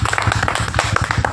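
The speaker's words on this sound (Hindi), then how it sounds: "तालियां।" A small audience claps at a comedy stage show, quick rhythmic hand claps close by and fairly loud, continuing briefly without voices.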